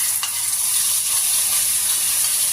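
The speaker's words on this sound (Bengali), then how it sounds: "এই জিরে গুঁড়োটাকেও তেলের সাথে কয়েক সেকেন্ড নেড়ে চেড়ে" Cumin powder fries in hot oil in a pan for a Bengali doi begun, giving a steady, close hiss and sizzle while being stirred.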